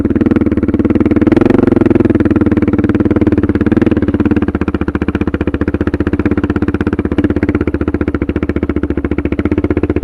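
A Suzuki DR650 motorcycle with a tuned jet kit pulls up a small hill, its single-cylinder engine thumping loud and close in a steady, rapid rhythm, lugging hard under load without any voices.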